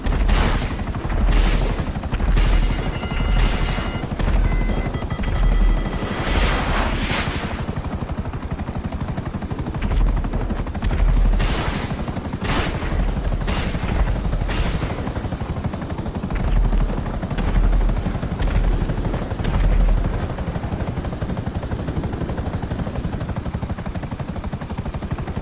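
A continuous attack helicopter rotor drone with bursts of rapid cannon fire and booms, loud and close, in a GTA 5 Online combat scene.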